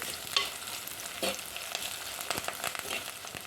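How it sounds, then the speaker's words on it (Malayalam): Garlic, curry leaves, ginger and green chillies sauté in hot oil in a pan for lemon pickle, a steady close sizzle with scraping stir strokes running throughout. "ഇനി കുറച്ച് കറിവേപ്പിലയും കൂടി നമുക്ക് ചേർത്ത് കൊടുക്കാം നന്നായിട്ടൊന്ന് വഴറ്റിയെടുക്കാം"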